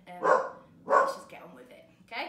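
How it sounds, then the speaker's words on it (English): A dog barks twice in quick succession, fairly close, with a person talking over and between the barks. "I'm sorry for the dog barking."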